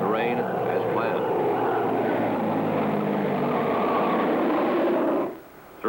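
A low-flying military observation airplane drones steadily overhead, a loud, continuous engine roar that holds for several seconds before cutting off abruptly near the end.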